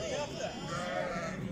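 Sheep and lambs bleat at a busy livestock market, with overlapping bleats mixed into constant crowd chatter and people talking nearby.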